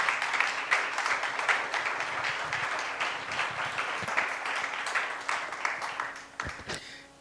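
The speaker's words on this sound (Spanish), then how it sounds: "Dale un aplauso al Señor, por favor." A church congregation applauding during a Spanish-language worship service, steady dense clapping from many hands that fades out near the end.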